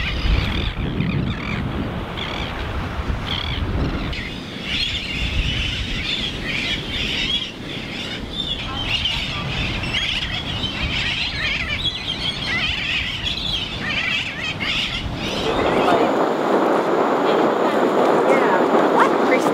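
Birds chirp and call on a beach in Palau, bright twittering over steady wind noise, while people talk throughout nearby.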